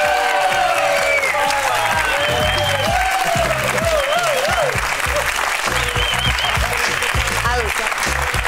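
Studio audience applauding steadily on a Catalan television talk show, dense continuous clapping with a few voices and whoops mixed in, at an even level throughout.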